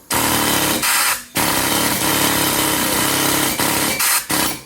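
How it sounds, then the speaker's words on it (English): An air hammer hammers at an axle on a Nissan R33 Skyline during a differential swap, a loud continuous metallic rattling in several long bursts with brief pauses between, close up with no talk. "we about to see if the air hammer is gonna push this out"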